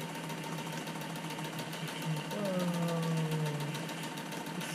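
A sewing machine hums steadily with a mechanical whir, its pitch rising and holding as it speeds up partway through, close and fairly loud.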